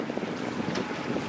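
A Beneteau 281 sailboat motor-sails south on open water with a steady low hum, rushing wind on the microphone and soft wave wash, all continuous and fairly quiet.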